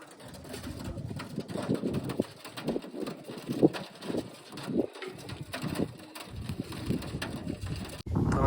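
Wild pigeons perch and coo near a pigeon trapping setup, repeated low soft coos mixed with wind noise and rustling at moderate distance, no talking.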